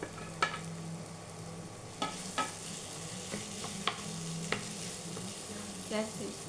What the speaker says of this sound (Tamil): வெங்காயம் நல்லா வதங்கினோன்னே இப்போ வேக வச்சு திரும்ப உருளைக்கிழங்கு போட்டுக்கலாம்